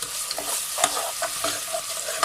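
Ginger garlic paste frying with onions in a pan, stirred steadily with a spoon: a continuous close sizzle broken by soft scraping strokes, with no talking.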